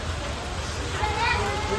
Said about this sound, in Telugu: వర్షం మాత్రం చాలా ఎక్కువ పడుతుంది.